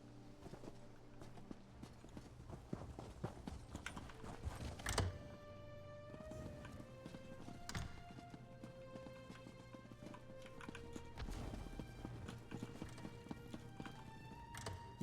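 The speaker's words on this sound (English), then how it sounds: "Everyone's using the same collector's edition horse." Horse hooves clip-clop steadily on hard ground in the Elder Scrolls Online game world, a quick regular rhythm of clear, close hoofbeats over faint background ambience.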